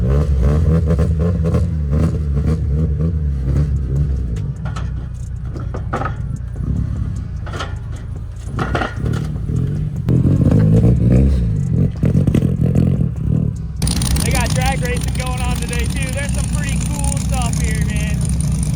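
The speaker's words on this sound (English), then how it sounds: "Everybody's starting to drift right now, so I'm gonna get in my car." Cars revving and drifting at a grassroots drift event where a $100 Miata is taking part, loud engine roar and clatter close by throughout, with people talking over it and a sharper high-pitched engine whine in the last few seconds.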